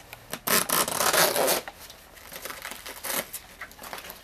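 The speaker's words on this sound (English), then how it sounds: "Another great thing about the Heat is its zipper" An O'Neill Code Red watertight zipper on a Heat wetsuit being worked, two close rasping pulls, the first longer and louder, followed by softer rubbing of the suit material.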